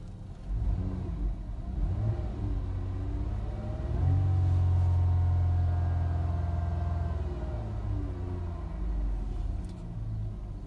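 A 2016 Dodge Caravan 3.6 liter engine with automatic transmission idles steadily with a low rumble, then revs up briefly and settles back down; close and continuous, no voices.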